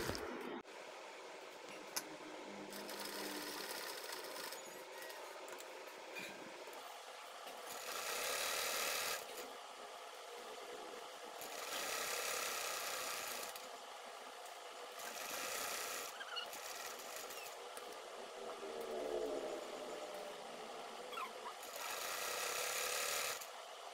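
A sewing machine stitching a handbag, running in repeated bursts of whirring, rasping stitches separated by short pauses, close up and with no voices.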